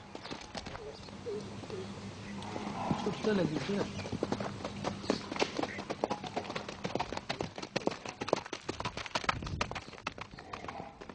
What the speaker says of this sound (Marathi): त्यांच्या शेतातल्या स्टड फार्मवरचा हा स्टॅलियन घोडा तर फारच देखणा आहे.